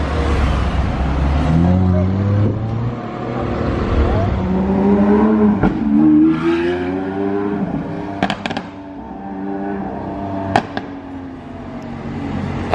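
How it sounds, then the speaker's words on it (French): A Lamborghini Aventador S engine roars up through rising revs, with sharp bangs and crackles near the end, loud and nearby; no one speaks. "j'étais pas prêt le bruit de l'Aventador S là"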